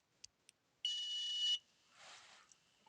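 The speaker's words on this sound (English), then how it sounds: "So I'm going to do a continuity test." A multimeter's continuity beep sounds during a test on an electric kettle's thermostat switch: one steady, shrill tone lasting about two-thirds of a second, preceded by two faint clicks and followed by a soft rustle.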